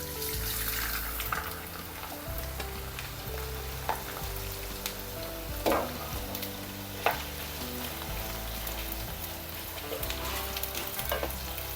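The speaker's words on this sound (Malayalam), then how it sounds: "എണ്ണയൊന്ന് ചൂടായിട്ട് നമുക്കത് വറുത്തെടുക്കാം" Ginger for ginger curry sizzles and crackles in hot oil with a continuous frying hiss, broken by a few sharp pops and stirring clinks.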